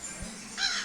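A single crow gives one short harsh caw near the end, fairly close, over a quiet outdoor background.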